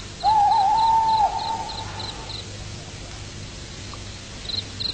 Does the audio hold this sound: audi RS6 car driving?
no